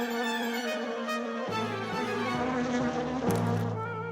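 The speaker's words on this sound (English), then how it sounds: "Oh, a bee!" A cartoon bee buzzes steadily and loudly, a continuous droning hum that shifts pitch midway as it flies about, with no talking over it.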